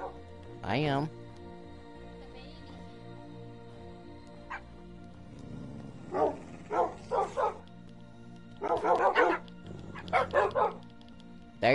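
Small yips and barks from puppies in a video game, a few separate sharp bursts followed by clustered rapid barking, with a person talking and laughing between them.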